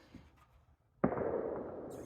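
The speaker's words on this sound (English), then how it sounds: "Sorry, there's another gunshot." A distant gunshot cracks outdoors once, a sudden muffled boom that rolls away in a fading echo over a quiet background, with no talking.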